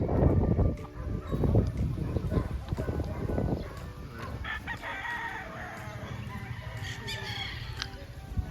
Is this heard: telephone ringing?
no